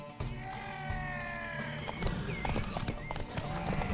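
Horse hooves clop in a steady rhythm in the video game The Witcher 3: Wild Hunt, close and moderately loud, with a brief whinny-like tone early on.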